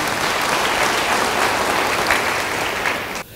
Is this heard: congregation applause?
yes